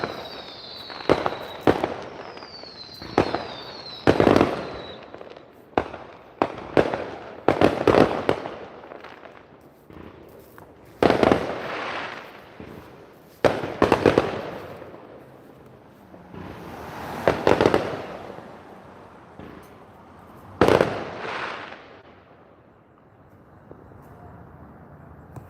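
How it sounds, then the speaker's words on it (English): Fireworks exploding at a Fourth of July celebration, a series of loud booming bursts and sharp firecracker pops spread irregularly, some with crackling tails, echoing outdoors without talk. "Who wants to watch fireworks for Sunday Nights Live?"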